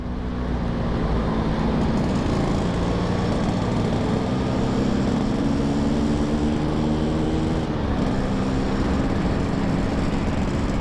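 A Yamaha RX King two-stroke motorcycle engine runs while riding, a steady, loud, buzzing drone with a brief shift in pitch near the middle over continuous road and wind noise.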